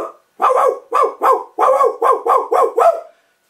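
A West Highland terrier barks eight times in a quick, steady series, each bark loud, close and sharp, with no talking over it.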